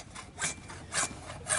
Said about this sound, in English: she is cutting the PVC conduit piece